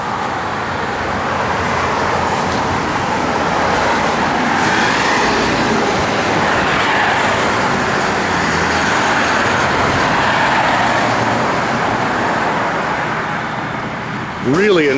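A 1966 Ford Fairlane engine runs steadily, a loud, continuous broadband rumble that holds an even level for the whole stretch with only slight swells.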